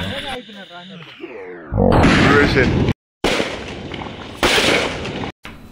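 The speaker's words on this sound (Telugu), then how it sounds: "ఇంకా మిగిలిన క్రాకర్స్ అన్ని తీసుకొని ఊరు బయటకి" Loud crackling bursts of Diwali firecrackers go off outdoors outside a village in quick succession, with voices underneath and a brief whistling rise at the start.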